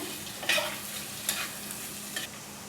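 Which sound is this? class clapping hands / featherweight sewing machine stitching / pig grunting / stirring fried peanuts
stirring fried peanuts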